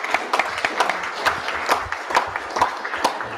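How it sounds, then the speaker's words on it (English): Audience at a school board meeting gives a short round of applause, scattered claps popping steadily through the room at moderate volume, with a faint voice underneath. "Let's applaud really fast"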